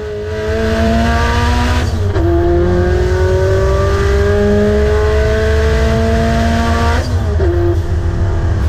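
A race car on a standing-start run beside a Peugeot 205 roars loudly and steadily, its engine pitch climbing through two gear changes with a brief tire squeal near the start.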